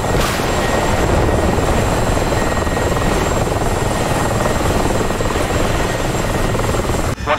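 Helicopter rotor and turbine in the DCS flight simulator, a steady loud droning whir that fills the whole stretch without a break.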